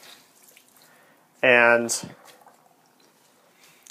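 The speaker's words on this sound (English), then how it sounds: "And one by one, I can wring them out," Hand-washed laundry wrung out over a sink gives one loud, short burst of squeezed, splashing water, with a brief voice just before it and quiet afterward.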